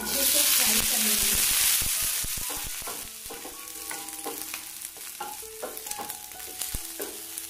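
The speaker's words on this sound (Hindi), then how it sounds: "अब मैं इसमें डाल दूंगी भिंडी। इसको हम अच्छे से फ्राई कर लेंगे।" Okra frying in oil in a pan: a loud, bright sizzle bursts up at first, then settles into a softer crackle under clinking stirs and a faint voice.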